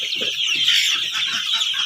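Month-and-a-half-old vaccinated Fayoumi chickens cluck repeatedly in a steady, close flock chorus over a bright, constant background hiss, with no talking.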